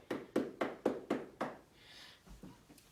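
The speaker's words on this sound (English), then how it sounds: "people could not clap when they have gloves on. The gloves would muffle the sound," Six soft, dull claps made with gloved hands in a steady rhythm, muffled and thuddy rather than sharp, followed by a brief hiss and a couple of faint taps.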